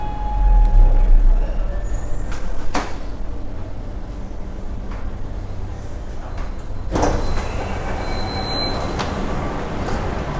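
An underground Mumbai Metro train, between Worli and BKC, rumbles steadily along the track with a constant roar, a brief door-like thump midway, and a high faint squeal near the end.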